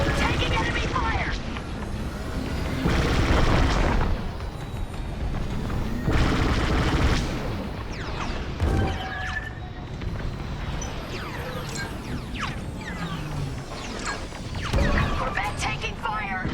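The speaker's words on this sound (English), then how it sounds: "Corvette taking fire." Enemy fire pounds a Corvette in a Star Wars Squadrons space battle, with repeated heavy booms and blasts arriving in loud bursts over a steady roar of engines and battle noise.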